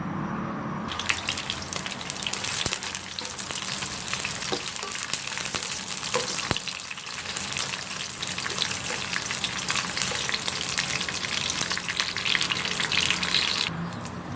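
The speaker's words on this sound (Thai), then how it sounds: "เดี๋ยวเจียวให้ไขมันจากเนื้อออกมาก่อนนะครับ" Beef sizzles over a gas stove as its fat renders out, a loud continuous frying hiss with crackling spatter and occasional clinks of stirring, no voices.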